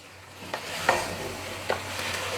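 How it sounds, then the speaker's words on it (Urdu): Garlic ginger paste fries softly in a pan for beef nihari under a low steady sizzle, with a few sharp scrapes and knocks from stirring. "یہ لہسن ادرک کا پیسٹ بھی شامل کر کے اس کو اچھے طریقے سے 7-8 منٹ کے لیے فرائی کر لیتے ہیں۔"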